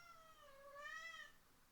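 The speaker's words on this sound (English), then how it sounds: "you were hearing the cat Poopy making some noises in the background" A house cat meows softly in the background, one drawn-out, rising-and-falling call that sounds faint and distant in an otherwise quiet room.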